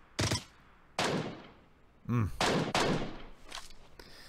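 Sniper rifle shots in PUBG Mobile, a string of sharp loud cracks with decaying echoes, about six in four seconds at uneven intervals, some near and some more distant.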